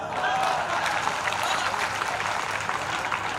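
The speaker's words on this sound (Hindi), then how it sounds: "आप बताएंगे ताली से आप समझे या नहीं" An audience at a Hindi comedy poetry gathering claps in a sustained, dense round of applause that stays fairly even for several seconds.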